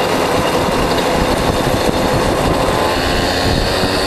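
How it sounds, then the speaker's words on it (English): A 1988 enduro dual-sport motorcycle engine running hard on a ride, a loud, continuous droning roar with steady rumble and no breaks, no voices heard. "Enduro bike."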